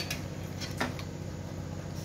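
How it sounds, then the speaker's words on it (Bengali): A spoon stirs payesh, a rice pudding, in a pot, making a couple of light metallic scrapes and clinks over a low, steady background hum. "বারবার নেড়ে দিতে হবে, না হলে তলায় লেগে যাবে"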